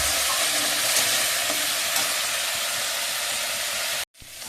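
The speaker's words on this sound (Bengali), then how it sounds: "অল্প একটু জল দিয়ে মশলাটা কষিয়ে নেব।" Spice masala frying and being stirred in a pan with a little water, a loud steady sizzle and hiss close up for about four seconds, then cutting off abruptly into a softer fading sizzle.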